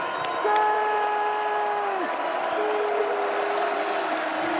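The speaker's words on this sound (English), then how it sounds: "this crowd is all the way into it" A stadium crowd roars steadily through a Minnesota vs Rutgers college football game, a dense, continuous wash of cheering with sustained horn-like tones sounding over it.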